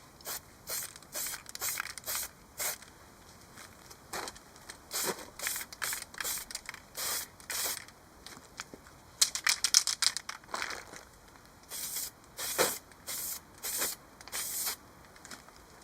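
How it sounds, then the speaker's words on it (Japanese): Repeated short hissing bursts from a heat-resistant spray paint can coating a moped muffler, each lasting about a second with brief pauses between, close up and fairly quiet; no talking. "マフラー走ってると高温になるんで耐熱スプレーで塗装しました。"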